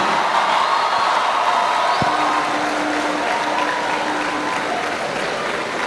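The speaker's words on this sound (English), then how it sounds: "Can we all give him a round of applause, please?" Sustained applause from a large audience for a university Vice Chancellor at a matriculation lecture, a dense steady roar of clapping hands continuing loud throughout, with a faint tonal hum in the background.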